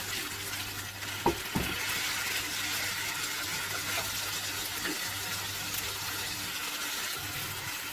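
Chicken pieces sizzling steadily in a pan over medium-high flame, a continuous frying hiss with a couple of sharp utensil clinks near the start.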